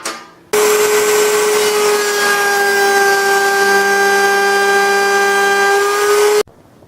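A power tool cutting a T-slot in a wooden table saw sled, starting abruptly, holding a loud steady whine with strong tonal hum for about six seconds, then stopping.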